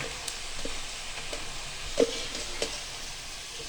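Pakoras frying in hot oil give a soft, steady sizzle with occasional crackles and light stirring clicks, fairly quiet and close, with no talking.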